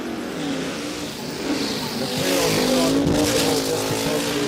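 A nitro drag racing car at Warwick Dragway in Australia roars loud and close, its engine note rising and swelling over the last couple of seconds with crowd-like noise underneath.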